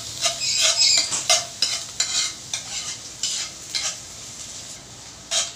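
Garlic fries in a little oil in a pan for Batangas-style lomi, a close crackling sizzle broken by repeated stirring scrapes and light utensil knocks at an uneven rhythm.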